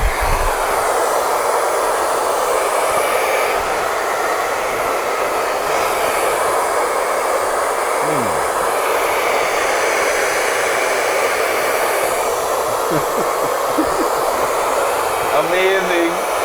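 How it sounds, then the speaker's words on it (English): A handheld blow dryer blows out thick hair while laying edges, a steady loud whooshing roar that runs unbroken throughout, with brief muffled movement near the end. "And then I would use the blow dryer"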